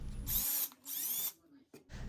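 Two bursts of a power drill boring lead holes for screw eyes in wooden groma arms, each high whine lasting about half a second, with a brief knock between and low rumble at the start and end.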